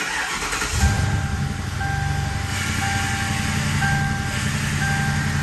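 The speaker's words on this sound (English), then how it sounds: "So we're ready to hop in the car, start it up, and see if we can spin that thing with one finger" A Ford Crown Victoria engine starting after a lower steering shaft repair, a steady loud mechanical hum that fills the whole stretch, with a few thin tonal beeps repeating above it.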